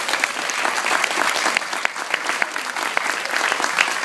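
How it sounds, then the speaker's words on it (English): School assembly audience applauding students, a steady wash of many hands clapping continuously for the full few seconds, fairly close and evenly loud. "let's give them all a big round of applause"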